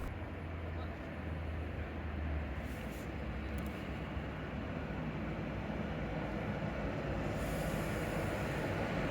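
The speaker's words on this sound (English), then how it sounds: "And here comes our 21-year-old Class 390 pendolino." An Avanti West Coast Class 390 Pendolino electric train, a 21-year-old unit, rolls in with a steady broad rumble and hiss that holds for the whole stretch, growing slightly brighter toward the end.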